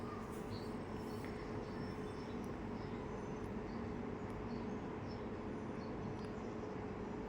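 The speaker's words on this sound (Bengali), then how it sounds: "এবার আরও 30 সেকেন্ড আমি বিট করে নিব, ইলেকট্রিক বিটার দিয়ে বিট করে নিব।" An electric beater whirs steadily through pudding cake batter, a continuous, fairly loud motor drone with a gritty, rattling texture that holds for the whole stretch, with no voices.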